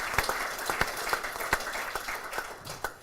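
Applause from the audience at a cricket club annual general meeting: a small group's scattered, uneven hand claps, moderately close, continuing steadily for a few seconds without voices.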